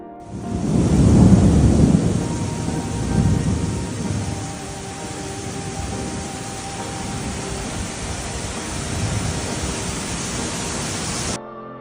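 Torrential rain pours over Atlanta in a dense steady hiss while deep thunder rumbles loudly early on and again more distantly later.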